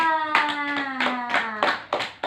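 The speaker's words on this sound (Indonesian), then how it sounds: "tepuk tangan buat kita semua" A third-grade class claps hands at the end of a lesson, a handful of distinct, separate claps heard close, while a sustained tone hums beneath them.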